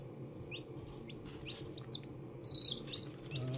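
Newly hatched baby chicks peep in a steady low hum, with a few thin high cheeps and a couple of louder, sharper chirps near the end.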